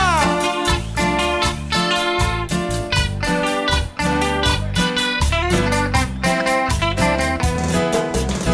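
Live cumbia band at a seaside festival, electric guitar playing loud bright rhythmic lines over driving bass and percussion, continuous and close with no singing heard.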